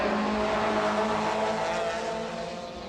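Nissan and BMW touring cars race in the 1993 British Touring Car Championship, engines roaring loud and close in a sustained high whine that eases slightly as they pull away.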